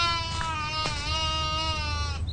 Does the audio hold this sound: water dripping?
no